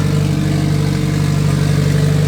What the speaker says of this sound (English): So she's on. She just doesn't idle very well.